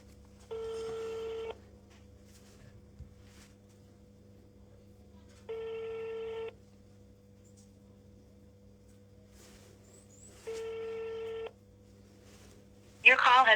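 An outgoing phone call rings unanswered, with three evenly spaced ringback tones about four seconds apart over a quiet low hum, followed by a brief burst of sound at the end.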